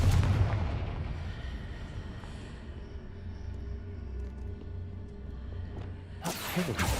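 Confringo fire spell blasting in the video game Hogwarts Legacy: a deep, sustained fiery roar rumbling steadily for several seconds, closing with a sudden bright, crackling burst.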